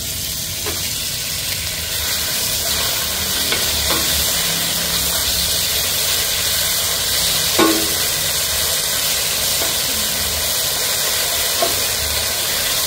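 Pork sizzles and fries in a hot pan while being stirred, batch by batch, for a spicy stir-fry with eggplant; a steady hiss of frying runs throughout with occasional soft scrapes and clinks, and no talk.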